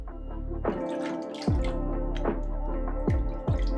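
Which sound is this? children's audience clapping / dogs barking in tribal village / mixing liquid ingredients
mixing liquid ingredients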